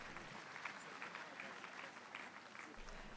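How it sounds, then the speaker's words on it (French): A church congregation claps together, quiet and somewhat distant. The clapping forms a steady, slightly rhythmic wash that lasts about three seconds, with faint voices mixed in. "Applaudissons pour Jésus-Christ"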